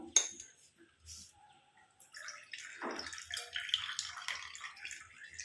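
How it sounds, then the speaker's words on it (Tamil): Herbal hair-dye liquid is strained into a bowl, giving soft intermittent trickles and drips with light clinks, quiet and close. "நம்ம இந்த மாதிரி ஒரு பவுலில் இதை வடிகட்டிட்டு எடுத்துக்கலாம்"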